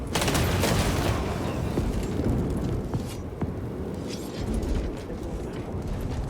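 A firing squad volley of gunfire rings out in the Warhammer 40K Space Marine 2 video game, a loud dense burst of shots followed by a rumbling, reverberant tail.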